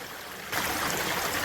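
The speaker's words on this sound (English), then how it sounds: "There's more river here." Rushing river water pours along a mountain creek swollen after heavy rain, a broad steady wash that swells suddenly louder partway through and then holds close and continuous with no voices.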